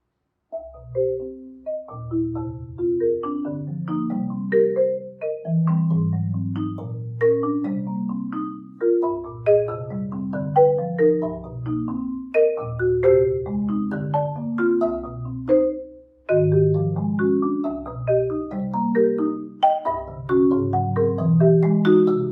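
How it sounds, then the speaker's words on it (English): A marimba's wooden bars, struck in the center with yarn mallets, play a flowing melody of soft, rounded strokes over low, resonant bass notes, steady and fairly loud, with a brief pause near the end. "I strike each bar in the very center with a yarn mallet. That makes the wood vibrate."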